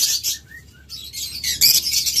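A caged pair of large pet birds chirps in short bright bursts, with a few thin whistled notes between louder clusters of tweets, close by and with no talking.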